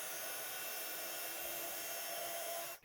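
A heat tool melts white embossing powder on a Christmas card, giving a steady, loud blowing roar that runs unbroken and then cuts off abruptly near the end.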